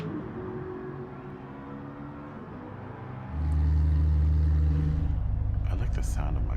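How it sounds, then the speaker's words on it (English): A race car in the video game GT Sport idles at Suzuka, a low steady engine drone that swells noticeably louder partway through, with faint voices in the background. "Ooh, that's a nice idling sound."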